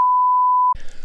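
A steady single censor bleep holds for about three quarters of a second in a German-language podcast, then cuts off abruptly as voices resume talking.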